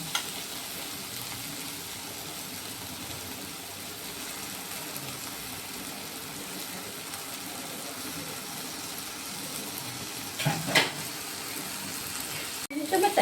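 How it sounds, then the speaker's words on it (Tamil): Prawns with chilli powder sizzle and crackle steadily in a hot pan, with a few clatters of stirring near the end. "நம்ம எடுத்து வச்ச இறாவையும் போட்டுக்கணும்."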